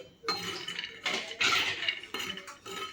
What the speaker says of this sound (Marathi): तर हे शेंगदाणे टाकून घेते अगोदर.